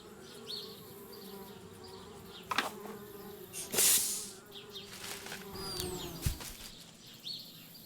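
Bees buzzing in the point-and-click adventure game Anna's Quest, a continuous close insect drone with a few louder swells and clicks, no speech.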